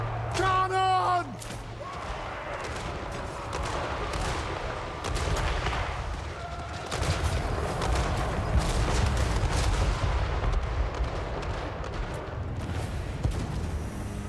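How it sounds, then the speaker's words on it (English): Cannon fire rumbles in a dwarf battle in a Warhammer video game, heavy booms layered in a dense, continuous roar of battle noise, with a voice calling out over the din at the start. "Cannon!"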